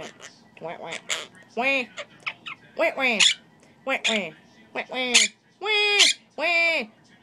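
A pet Quaker parrot squawks nearby in a string of harsh, loud calls, each short and separated by brief gaps, growing longer and more insistent toward the end.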